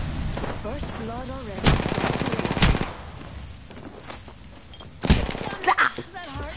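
Bursts of gunfire from a PS4 shooter video game crackle through a busy match, with two loud volleys standing out over steady background game sound and people talking.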